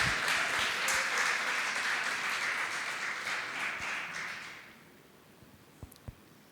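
A church congregation breaks into sustained applause, a dense, steady wash of many hands clapping that fades out after about four seconds, leaving a quiet room with a couple of isolated thumps.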